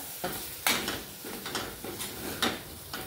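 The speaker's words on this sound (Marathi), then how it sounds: "छानपैकी असा मसाला परतून घ्यायचा आहे आपल्याला" Onion-garlic masala spice paste sautéing in a pan for a spicy black bean curry, a soft sizzle broken by several distinct spoon scrapes and knocks against the pan, close and unaccompanied by talk.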